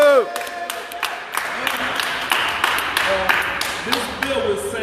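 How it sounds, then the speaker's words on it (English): Scattered clapping and some cheering from a crowd at a press conference, loud claps mixed with voices talking over them. "Let's give them a hand of applause."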